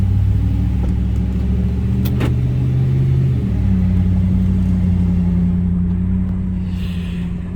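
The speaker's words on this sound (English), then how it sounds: "that exhaust does sound nice" A 2012 Ram 1500 Longhorn pickup truck driving with windows down, its engine and exhaust giving a steady low rumble with a slight rise in revs midway, continuous and close throughout.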